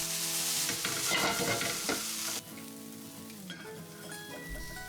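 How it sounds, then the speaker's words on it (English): Diced medium-sized onion frying and being tossed in a pan, a loud steady sizzle with stirring scrapes that drops to a softer crackle halfway through. "continue frying and tossing for a couple of minutes until the onions have some colour too"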